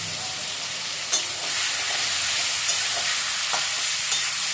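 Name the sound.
frying fish in hot oil in a wok, stirring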